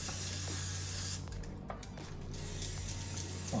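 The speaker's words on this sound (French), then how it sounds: "Alors, ça, c'est un spray l'huile qui fait l'huile canola. Ok? Je vais spray." Canola oil cooking spray released from a can in a steady hissing burst lasting a few seconds, close and fairly loud, with a brief dip in the middle and no one talking.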